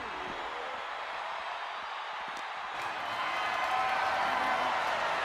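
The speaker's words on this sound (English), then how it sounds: "The WWE Universe is showing their appreciation for the action they're seeing." A wrestling arena crowd at a WWE casket match keeps up a steady wash of applause and cheering, swelling slightly louder toward the end, with no distinct voices on top.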